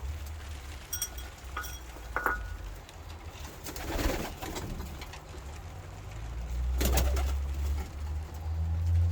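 Pigeons in a breeder's loft, among them young birds, coo nearby in soft low rumbling calls, with a few sharper chirps and some wing and movement noises scattered through.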